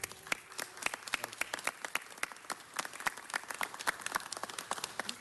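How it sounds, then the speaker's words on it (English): Council meeting audience applauds ski patrol volunteers, a dense burst of many hands clapping steadily at moderate distance throughout, without talk. "So let's give them a round of applause."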